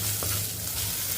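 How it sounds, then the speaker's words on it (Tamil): Onion sizzles as it is sautéed and stirred in a hot pan for a weight-loss soup, giving a close, continuous crackling fry with no talking. "ஒரு மீடியமான வெங்காயம் எடுத்திருக்கேன். இதை இதில் போட்டுருவோம். இதையும் ஒரு வதக்கிடுவோம்."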